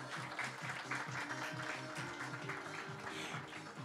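An audience at a launch event for a 5G VR experience applauds guests leaving the stage, quiet steady clapping heard faintly over a repeating background music beat.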